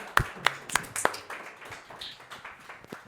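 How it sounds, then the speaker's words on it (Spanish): Scattered clapping from a small audience welcoming a preacher, a few sharp distinct claps at first, then thinning into lighter, sparser taps. "vamos a dar un aplauso y vamos a recibirlo"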